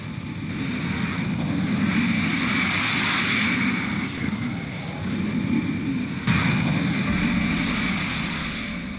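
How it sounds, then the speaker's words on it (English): A UPS cargo plane taking off, its engines making a loud, sustained roar with a broad rumble that holds steady across the clip, with no voices. "This UPS plane lost its left engine right after takeoff."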